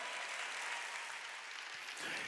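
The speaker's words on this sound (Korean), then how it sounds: "빨리 박수 치라고요" A church congregation claps during a sermon, a dense, steady wash of applause from many hands that stays full and loud throughout.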